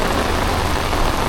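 Heavy rain pouring down in Sam Sharpe Square, Montego Bay, Jamaica, a steady loud broadband wash of rainfall on the street and surfaces, continuous and close throughout with no voices.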